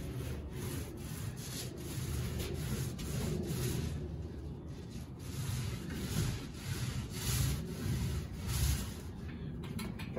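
A special epoxy roller spreads Rust-Oleum Epoxy Shield across an enclosed trailer floor, a continuous faint rolling and rubbing sound with repeated back-and-forth strokes, heard alone and fairly quiet.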